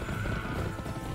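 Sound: horse neighing in a video game

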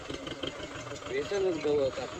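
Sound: tractor engine running

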